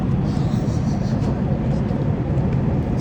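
Steady, loud broadband roar of airplane cabin noise on a long-haul flight to the United States, a continuous low drone with no breaks.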